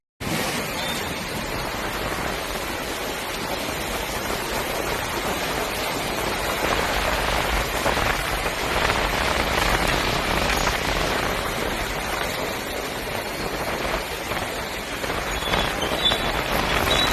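Steady rain falls continuously as a dense, even hiss that holds at the same loudness throughout, with no voices.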